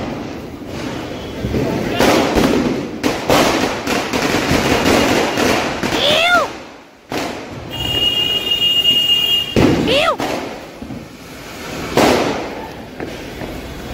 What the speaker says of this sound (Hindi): पटाखे जलाना स्टार्ट कर दिया अभी।